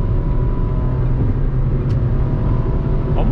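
Steady interior drone of a manual Ford Ka Sedan SE 1.5 at highway speed, a continuous low engine hum with road rumble and no talking.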